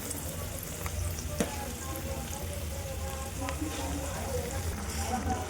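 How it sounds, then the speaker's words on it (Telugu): Hot oil crackles and spits steadily, with scattered sharp pops from tempering spices spluttering in the pan as they are added to a mango chutney. "పోపేది మంచిగా ఎగురుంది"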